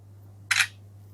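A single short shutter click from the front camera of a Realme C65 phone, crisp and close over a faint steady hum.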